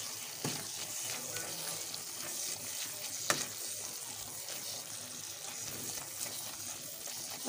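Carrot halwa fries in a pan as cashews and almonds are stirred through it, a close steady sizzle broken by occasional sharp spoon clinks against the pan, with no one talking.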